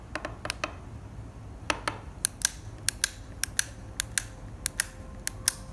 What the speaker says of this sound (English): the pawl is now doing its job and clicking back